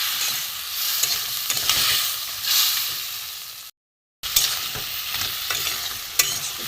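Crab curry masala is stir-fried in a pan with a little water, giving a dense, bright sizzle and stirring scrapes that break off briefly midway, then resume just as loud.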